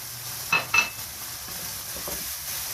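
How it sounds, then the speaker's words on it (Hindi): A spoon stirs masala cooked with ground tomatoes for chicken curry, frying in a pan with a steady faint sizzle, broken by two sharp scraping stirs near the start. "बहुत अच्छे से मसाले को अच्छे से भूनना है।"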